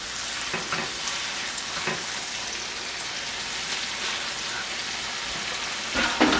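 Chicken seasoned with salt and pepper sizzles steadily in a hot pan, a dense continuous crackle that grows louder near the end, with no talking.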